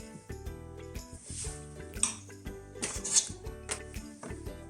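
A stand mixer with its dough hook working flour on low speed, a faint, uneven clunking and rattling of the hook and bowl with irregular knocks and scrapes, heard on its own.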